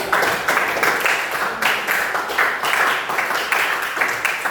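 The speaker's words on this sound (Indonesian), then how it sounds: "berikan aplaus dulu untuk kelompok 2" A classroom group gives applause for the second presentation team, steady clapping from many hands sustained for several seconds, loud and close, with no talking over it.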